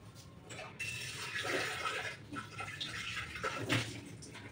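Water runs and splashes while a pressure cooker is rinsed in a kitchen, a fairly quiet, uneven wash with some clinks and swishes.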